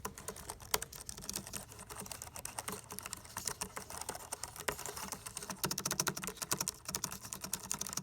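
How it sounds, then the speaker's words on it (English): Keys of a Cherry KC 6000C corded USB-C Mac keyboard, US layout, typed on up close: a quiet, continuous patter of light, low-travel clicks at a brisk, steady pace. "we'll get close so you can hear the keys"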